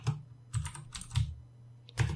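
Keys clatter on a computer keyboard as a MySQL login command is entered on a Linux server, coming in short close bursts of taps separated by brief pauses, with no voices.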